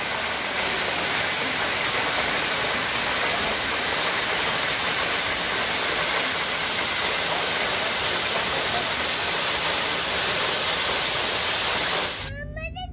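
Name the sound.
Kapil Dhara waterfall, Amarkantak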